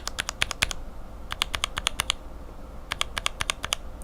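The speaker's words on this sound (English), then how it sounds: "Seems to me like the bottom out noise is a little higher pitched on the cherry top, but then the top out noise is less pronounced on the cherry top." Keyboard switches with Cherry housings clicking in quick bursts of keystrokes, sharp bright clacks of bottom-out and top-out, close and alone with short pauses between runs.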